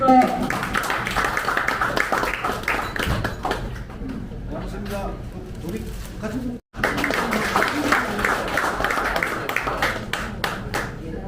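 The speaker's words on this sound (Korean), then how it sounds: "큰 박수 부탁드립니다" Audience applause at an inauguration ceremony for a Busan district presidents' association, steady dense clapping for about eleven seconds with voices over it and one brief drop in the middle.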